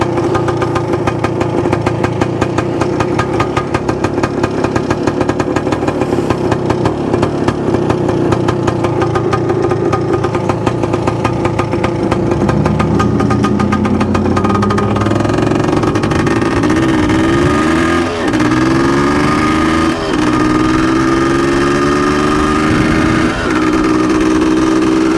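A 1978 Yamaha DT400E motorcycle engine runs loudly up close, bogging down and surging unevenly, its revs sagging and climbing in wavering pitch sweeps through the second half.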